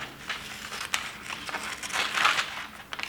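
Paper quilt template being cut up, with soft crinkling and rustling paper sounds and scissor snips, close and continuous.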